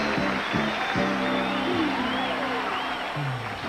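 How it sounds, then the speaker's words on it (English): Studio audience applause on the Wheel of Fortune set as hostess Vanna White comes out, a steady wash of clapping running the whole time beneath music and a voice. "Now, a big burst of applause, please, for our hostess."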